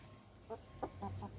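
Pet birds at a fruit swing give a quick run of four soft clucking calls, faint and close, over a quiet low room hum.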